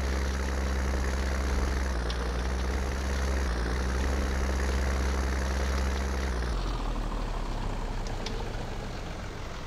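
A farm vehicle engine in Farming Simulator 19 drones loud and steady as it drives toward the farmyard, a low rumbling hum that drops in tone near the end as it eases off.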